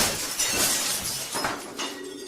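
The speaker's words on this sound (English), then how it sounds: "The sound of glass breaking broke any and all comfort I had in my head." A glass window shatters in the video game Little Nightmares with a bright, crashing burst, followed by scattered tinkling fragments and a second smaller crash, loud and close.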